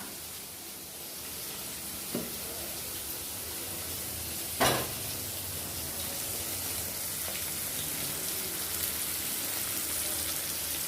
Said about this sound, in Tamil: இதில் தக்காளி கொஞ்சம் வதங்கட்டும்